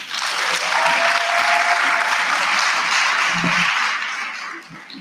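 A crowd applauds at a student representative council induction ceremony, a full, even roar of clapping that holds strongly for several seconds and then begins to thin out near the end.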